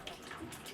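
A tap in a home in a Mexico City neighbourhood runs at full pressure, a brief steady rushing and splashing of water, moderately near, with a voice faintly underneath.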